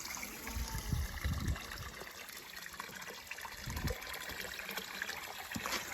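Water trickles and splashes steadily from a stone fountain outdoors, a continuous close wash of flowing liquid with a few heavier low splashes, no voices.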